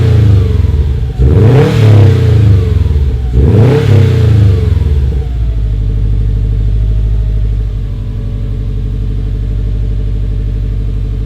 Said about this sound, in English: Now we're going to do some light revs.